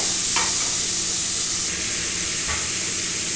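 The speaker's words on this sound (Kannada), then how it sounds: "ಆನಿಯನ್ ಗೋಲ್ಡನ್ ಬ್ರೌನ್ ಕಲರ್ ಬರೋ ಅಷ್ಟೊತ್ತಿಗೂ ಫ್ರೈ ಮಾಡಬೇಕಾಗತ್ತೆ" Sliced onions sizzle in hot oil in a pan, a close, steady hiss broken by a couple of brief stirring scrapes, with no voices.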